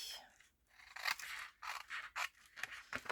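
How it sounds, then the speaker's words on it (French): Scissors snip through a paper card being cut into a square greeting card, a series of crisp, close cuts in irregular bursts with brief pauses between them. "Donc, je vais venir découper"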